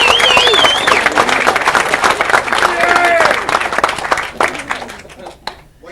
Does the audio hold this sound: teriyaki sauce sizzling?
no